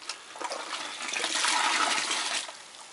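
Cider being stirred while it turns to vinegar, a continuous sloshing, swirling liquid rush that swells in the middle and eases off, close and alone with no talking.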